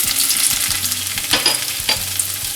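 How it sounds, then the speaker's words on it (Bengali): Chopped ginger sizzles and crackles in hot oil for chili paneer, a loud, continuous frying hiss with bursts of spattering and stirring. No one speaks. "এবার ওই তেলেই আমি কিছুটা পরিমাণ কুচনো আদা,"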